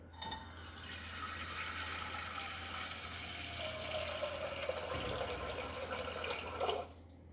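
Boiling water pours steadily into a container with a continuous rushing splash, the pitch rising slightly as it fills, then stops abruptly.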